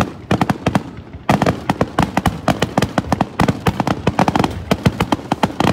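Fourth of July fireworks grand finale firing in rapid succession, dense volleys of loud sharp bangs and crackles with brief lulls between bursts, close and continuous.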